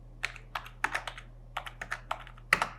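Computer keyboard keys tapped in short irregular bursts, a dozen or so crisp clicks close up with a louder final keystroke, entering a child's date of birth on an online PAN card form, no talking.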